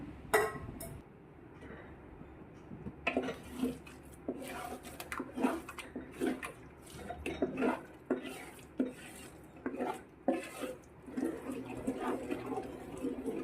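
Jackfruit mixture with melted jaggery is stirred slowly in a pan: soft, wet scraping and sloshing strokes come in an irregular rhythm after a quiet start, with light clinks of a spoon against the pan.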